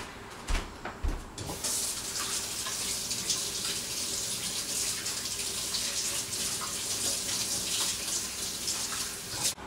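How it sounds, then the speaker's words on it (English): After a few knocks and clatters, tap water runs steadily and close for several seconds as hands are washed under the faucet at a kitchen sink, with no speech. "Let me wash the hands."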